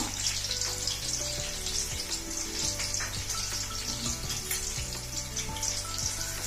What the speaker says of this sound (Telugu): వీటిని దోరగా వేగనిద్దాం.